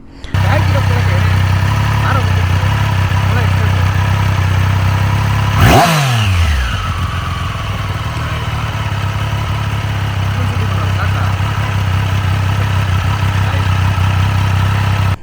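A Triumph Street Triple RS 765 cc three-cylinder motorcycle with three exhaust pipes idles steadily and close by. There is a brief sweeping surge partway through, and a voice talks over the engine.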